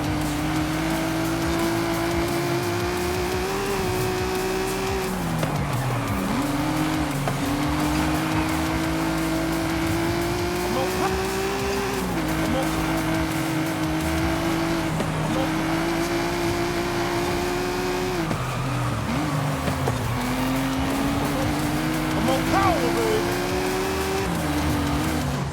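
Racing game engine roar of a sports car in Forza Horizon 5, a steady loud engine note rising through gear shifts, with tire squeal and skidding in the corners, no talk.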